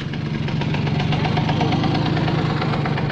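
A Simson moped engine with its exhaust fallen off runs loud and raw, its rapid knocking putter steady and close, with no voices.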